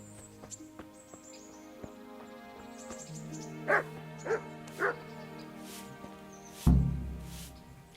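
Hounds belonging to the executioner in the video game Kingdom Come Deliverance bark in three quick, evenly spaced yips at middle distance over a low game soundscape with scattered clicks, followed by a single heavier thud.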